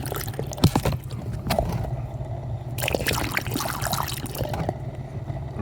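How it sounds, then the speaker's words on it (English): Bleach trickles and gurgles steadily down an A/C drain line, with occasional splashes and small knocks, close up and fairly quiet. "all you're gonna do is just pour bleach down in it."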